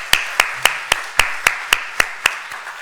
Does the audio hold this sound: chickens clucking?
no